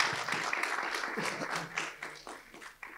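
An audience at a masterclass applauds in a burst of many hands clapping that gradually thins and fades toward the end, with a faint voice underneath.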